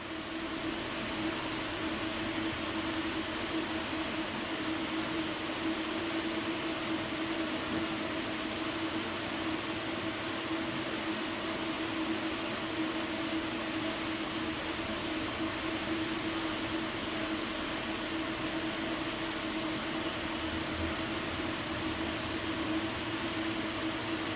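Inside a Tri-Rail commuter train rolling along the rails, a steady loud rumble and hiss carries a constant droning hum, unchanging and close for the whole stretch with no voices.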